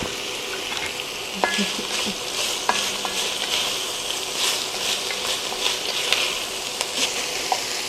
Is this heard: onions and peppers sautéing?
yes